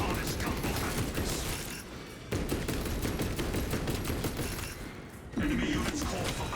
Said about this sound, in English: My servo harness gun will handle this.